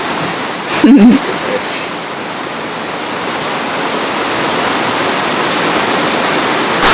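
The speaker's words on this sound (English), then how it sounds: "That, my friends, is the sound of fresh Hawaiian water being made." Steady, loud rush of rainwater pouring off a roof nearby on Hawaii's Big Island, a dense continuous wash of noise with a brief voice near the start.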